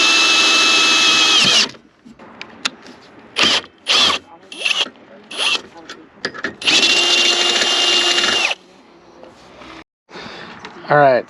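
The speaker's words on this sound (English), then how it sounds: "We got a hole drilled in there" Power drill boring a hole for a tow plate on a Scion xA, whining in loud bursts that start and stop repeatedly, close by, with short quiet gaps and some clatter between.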